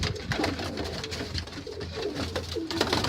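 Tippler and roller pigeons coo in a loft, soft repeated low murmuring calls overlapping steadily over a constant background hum, close and moderately loud.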